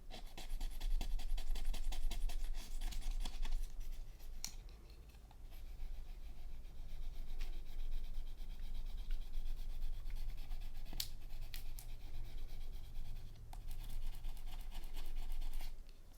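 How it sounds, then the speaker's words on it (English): A palette knife rubs against plastic at a card-making desk, making faint, close, continuous scratchy strokes with a few sharper clicks and no talking. "I'm just going to take a palette knife and just rub the plastic here."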